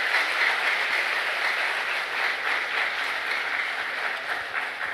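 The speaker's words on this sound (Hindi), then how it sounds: "एक बार भरपूर तालियों से सबका" Applause from an audience welcoming youth wing co-coordinators at the Om Shanti Retreat Centre in Delhi-NCR, a dense, even patter of many hands sustained throughout at moderate loudness, with no voices over it.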